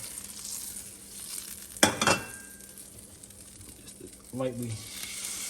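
Lobster lightly cooking in a pan, a soft steady sizzle and fry close by with a couple of brief clatters and stirring scrapes, with a voice talking over it.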